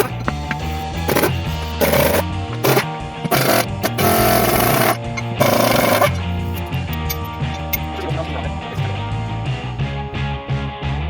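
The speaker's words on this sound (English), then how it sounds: "So we've got to pull these bolts off in order to get this out of here." Powered impact tool rattling bolts loose from a Ford 8N tractor wheel rim, loud sustained hammering bursts with short pauses between them, followed by quieter mechanical clatter.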